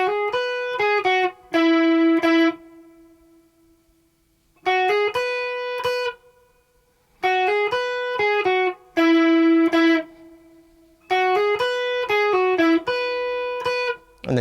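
An electric guitar plays a beginner's riff from the start, distorted, in short bursts of several quick picked notes ending on a sustained note that rings into silence before each phrase repeats.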